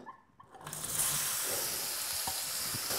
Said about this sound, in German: Und die brate ich da drin schon mal an